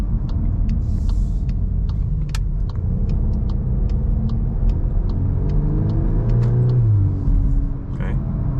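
A VW Golf R in Nürburgring handling mode drives with a loud, steady engine rumble heard from inside the cabin, the pitch rising and falling slightly as it accelerates, with faint ticking sounds on top.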